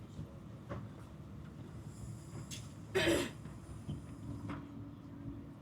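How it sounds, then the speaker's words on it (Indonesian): A Frecciarossa 1000 high-speed train rushes past with a brief loud whoosh of air and rumbling, set against a steady background hum. "Oh nih lewat Frecciarossa 1000 juga nih"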